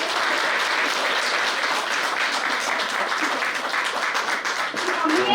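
Dense, enthusiastic applause from a crowd, steady clapping filling the space for several seconds without pause.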